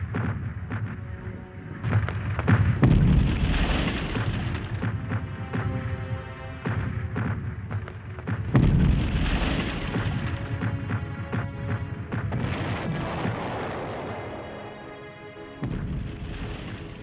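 Artillery shellfire from the 1916 Battle of Verdun booms in a continuous barrage of heavy, rumbling explosions, several blasts rolling over one another throughout.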